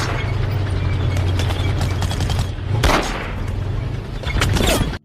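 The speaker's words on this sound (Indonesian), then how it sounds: "John Miller yang sudah mendapat beberapa tembakan hanya bisa terduduk dan menembak tank musuh dengan pistol." Pistol shots fired at an enemy tank in a WWII war film, a dense continuous crackle of gunfire with a sharp louder burst midway, under a low rumbling battle bed and no talk.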